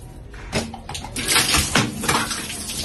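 Water spattering and splashing from a Lorenzetti electric shower head during a heating element replacement, irregular wet bursts and drips building in loudness, close by with no talk.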